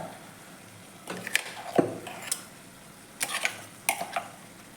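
A spoon scrapes and knocks against a pot as ground coconut paste is stirred into egg aviyal, giving a handful of sharp clinks and thuds in loose clusters over a quiet background, close and without talk.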